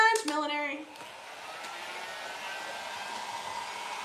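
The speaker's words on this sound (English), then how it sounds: "I'm just using the heat gun on the can here." A heat gun blows hot air onto clay molded on a recycled soup can, a steady broadband whoosh held close and loud for several seconds after a brief burst of voice at the start.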